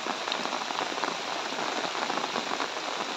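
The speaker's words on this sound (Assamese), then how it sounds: "এনেকুৱা বৰষুণ, অনৰ্গল বৰষুণ" Heavy, continuous rain pours down without letup, a dense close hiss of drops striking surfaces.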